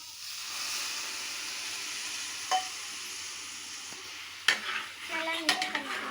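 Tomatoes fry over high heat in a pan, a continuous hissing sizzle with occasional scrapes and clanks of stirring near the end.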